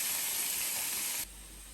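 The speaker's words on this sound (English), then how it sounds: "Now add the onions, the capsicum and the green chilies." Onions, capsicum and green chilies hit hot butter in a pan for pav bhaji, a faint steady hiss and sizzle that suddenly drops away to near quiet after about a second.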